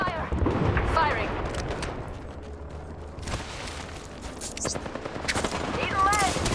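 Gunfire in the Apex Legends battle royale game, with bursts of shots and impacts in a busy firefight, layered under game voice lines and effects throughout.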